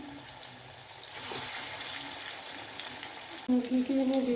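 Flattened prawn cutlets fry in oil and are turned over. A quiet sizzle swells into a steady hiss partway through, and a tonal hum joins near the end.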